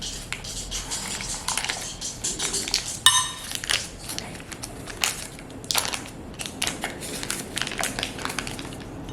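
An ice-cold cube of butter dropped into hot oil in a pan while making garlic butter, giving faint crackling and sizzling with scattered small clinks and a sharper burst of spattering partway through.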